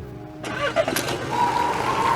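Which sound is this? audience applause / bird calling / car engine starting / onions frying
car engine starting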